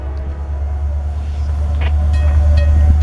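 Freight train L38, a local, rolling past in Marion, Ohio: a steady, loud low rumble with faint hiss that builds slightly as the cars pass close by.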